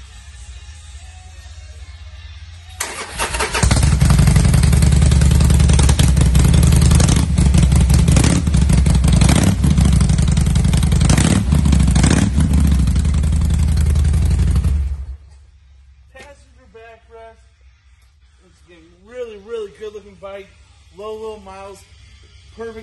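A 2018 Sportster 48 motorcycle with Cobra pipes starts up and idles loudly and close for about twelve seconds, then shuts off, leaving quiet room sound and a voice talking.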